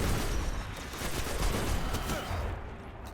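Hand cannon fire in the video game Destiny comes as a dense barrage of shots blurring into one noisy, overlapping stretch of gunfire. It runs steadily for a few seconds at moderate loudness.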